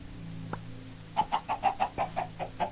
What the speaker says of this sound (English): chicken farm